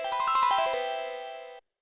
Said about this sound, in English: when the Konami logo comes up, it sounds like this normally